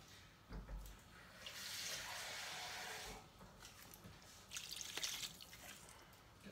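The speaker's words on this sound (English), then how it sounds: "get some water in there, give it a mix up." Water poured into a bowl of game pie filling of meat and flour, a faint, broken trickling and splashing in two short bursts at low level.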